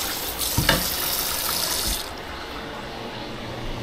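Cold water runs steadily from a kitchen tap, a continuous close splash and hiss that drops slightly about halfway through as the flow changes.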